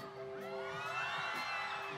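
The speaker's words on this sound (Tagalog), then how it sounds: "Isang hiyawan nga dyan!" An audience at a campus concert whooping and cheering in a sustained swell of high-pitched shouts, distant and fairly faint, with no clear speech.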